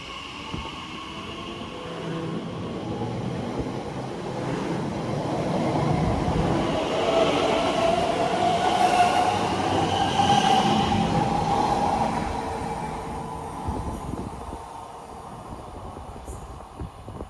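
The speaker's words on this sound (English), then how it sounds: "Departing out now is the 1114 Elizabeth line service from Maidenhead to Abbey Wood." An Elizabeth line train running from Maidenhead to Abbey Wood departs a station, its rumble and wheel noise building to a faint squeal at mid-pass, then easing away, heard nearby with no talking.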